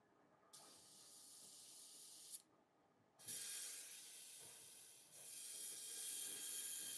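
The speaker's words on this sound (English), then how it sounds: "Now you want to run the airbrush cleaner through your airbrush because you want to remove all the stuff that is inside." Airbrush cleaner sprayed through an airbrush to clear out the paint inside, heard as bursts of steady hissing air spray, the first shorter and a longer, louder stretch following after a pause.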